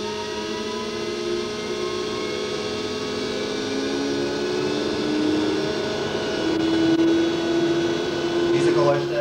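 An electric car's electric motor hums at low speed, a steady close tonal drone with harmonic whine that rises slightly in pitch and loudness over time.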